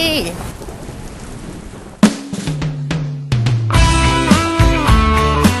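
A rainy-season thunderstorm: steady hissing rain with rumbling thunder fills the first two seconds, then gives way to loud tonal, musical sounds that dominate the rest.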